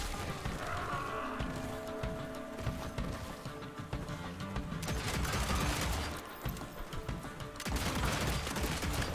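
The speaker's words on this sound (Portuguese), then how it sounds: "R2 para disparos individuais e segurar para atirar em rajada." Gunfire in bursts from the vampire western action game Evil West, loud and continuous, with rapid repeated shots crowding together and breaking off briefly midway before resuming.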